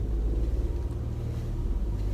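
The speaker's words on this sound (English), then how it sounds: "Now there's a car coming, so we wait for that car" A car approaches along a road during a driving lesson, a steady low rumble of engine and tire noise holding fairly close throughout without a clear peak of passing.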